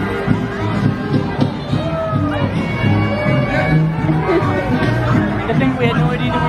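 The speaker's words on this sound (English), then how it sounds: "Look at this crowd of people down here." Loud crowd at Universal Studios, with dense overlapping chatter, shouts and whoops close by, one voice talking over the hubbub throughout.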